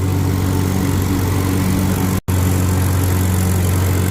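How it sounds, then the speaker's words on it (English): A loud, steady engine drone with a low rumble from a 75-year-old tractor mowing with a 60-inch mower deck runs continuously up close, broken only by a very brief cutout midway. "We're mowing with 75-year-old technology."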